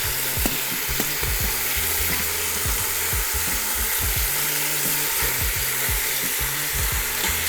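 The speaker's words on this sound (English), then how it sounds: "You want all that nice caramelization with the onions and the garlic." Onions and garlic sizzle loudly in a hot pan, a constant close crackling hiss with repeated scraping strokes from stirring across the bottom.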